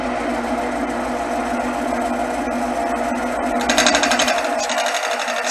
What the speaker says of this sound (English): once you start engaging the cut, then you can start moving your gouge back and forth